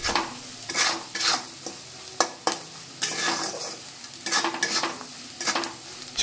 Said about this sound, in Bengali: আবারও বেশ কিছুক্ষণ এটা আমি নেড়ে নেব